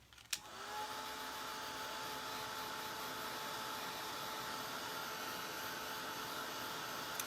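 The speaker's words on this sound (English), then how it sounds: "Like my quiet new little hair dryer. It's actually a craft dryer." Small quiet craft heat dryer used to dry paint on a gingerbread man stocking, switched on with a click and then blowing a steady, even whirring hiss, fairly faint, alone without talk.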